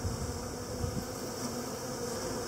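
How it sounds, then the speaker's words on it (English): Honey bees buzz around a nucleus hive in a continuous, dense hum, fairly close and steady, with no speech. "I want the bees to go back inside the hive."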